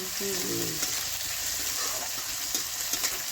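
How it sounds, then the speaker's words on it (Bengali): Pathor chata fish frying lightly in a pan, four pieces of it sizzling steadily and close up, with a brief low scrape near the start. "চারটে চারটে মাছ দিয়ে দিয়েছে হালকা করে একটু ভেজে নেবে"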